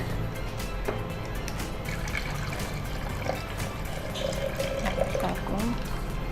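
Water being poured into a kitchen container, a soft continuous trickling and filling sound up close, fairly quiet, with a voice speaking over it.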